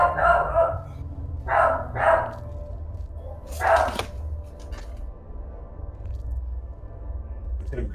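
A dog barks nearby in four or five loud, quick yips, with a short gap between bursts, then quieter household noise.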